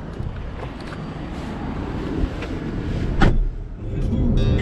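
A car drives off steadily after picking up a go-kart, its engine a low rumble under heavy wind buffeting on the microphone, with a brief louder whoosh midway.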